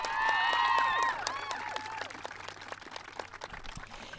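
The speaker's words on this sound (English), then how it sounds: "So, yeah, round of applause." Crowd applause at a women's rugby sevens charity event, clapping beneath a bright whistling or squealing tone at first, then scattered continuing claps with background murmur.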